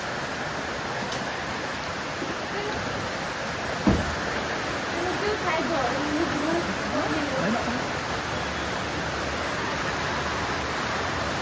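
Heavy rain pours outside a house, a steady dense hiss that runs unbroken throughout, with faint voices murmuring underneath.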